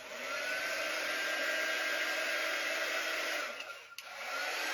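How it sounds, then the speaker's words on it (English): A small handheld dryer blows on wet paste on a craft project, giving a steady close whirring hum that holds level, then wavers and dips briefly near the end before resuming. "I'm going to take my little dryer"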